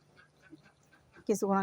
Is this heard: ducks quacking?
yes